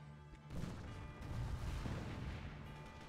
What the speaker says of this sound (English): I didn't give the mortars enough lead